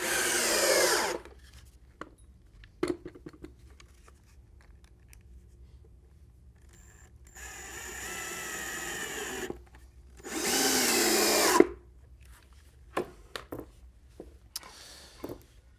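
Power drill driving screws into wooden boards of a farmhouse table, heard as three separate whirring bursts of a few seconds each between quiet stretches, with faint knocks and handling noises.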